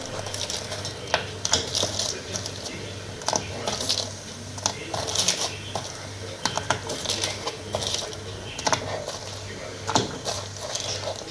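Pumpkin gnocchi drop into a pot of salted, oiled water at a steady boil, with close bubbling and small irregular clicks and splashes running continuously throughout.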